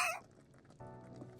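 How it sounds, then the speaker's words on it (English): A character in the video game Tainted Grain clucks like a chicken after drinking a potion, giving a short burst of fowl-like squawks at the start, followed by quieter game ambience. "She asked us to drink this potion, and we started clucking like chickens and animals and stuff."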